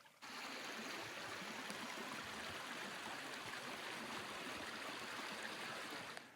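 Smith Brook flowing beside a wetland in a Maine forest in Sebec, a steady, unbroken rush of water that holds an even level throughout with no voices.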